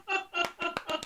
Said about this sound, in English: All I did was clap.